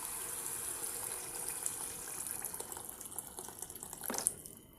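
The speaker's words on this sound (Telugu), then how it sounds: "ఇప్పుడు ఇందులో మనం వాటర్ అనేటివి వేసుకుందాం" Water pours from a vessel into a pan of fried vegetables for vegetable pulao, a soft continuous splashing stream that stays fairly quiet and steady, with no one speaking.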